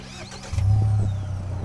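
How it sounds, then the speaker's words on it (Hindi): A Tata Harrier petrol SUV's exhaust note: a low engine hum swells suddenly into a deeper, louder rumble as the throttle opens, then holds steady, heard close and alone. "मैं इस गाड़ी का एग्जॉस्ट नोट सुनाना चाहता हूँ।"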